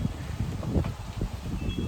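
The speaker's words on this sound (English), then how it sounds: "pretty windy out here. It's never windy." Steady low rumbling wind buffets the microphone, with a faint rustle mixed in and no voices.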